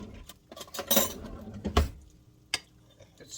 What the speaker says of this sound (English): And then I'm going to stir it up.